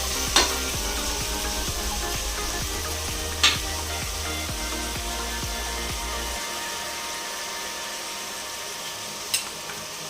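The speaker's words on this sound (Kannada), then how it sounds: "ಪುದೀನ ಸೊಪ್ಪು ಹಾಕ್ತಾಯಿದ್ದೀನಿ, ಈ ಥರ ಚೆನ್ನಾಗಿ ಫ್ರೈ ಮಾಡ್ಕೋಬೇಕು" Mint leaves fry with green chillies in a pan for egg biryani, giving a continuous close sizzle with occasional stirring scrapes. A low hum runs underneath for the first few seconds, then stops.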